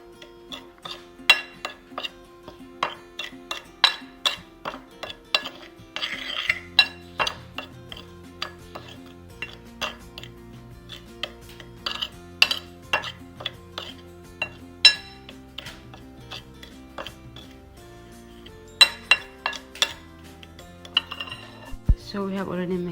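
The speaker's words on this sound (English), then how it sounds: "we're going to mix our spices for the fish" Light clinks and taps of a spoon against a small bowl or dish while spices for fish are mixed, irregular sharp hits spread over a quiet kitchen background with a low hum.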